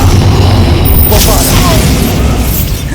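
Confringo fire-blast spell in the Hogwarts Legacy video game, a loud booming burst with crackling debris and whooshing tails, sitting close and dense amid game background sound.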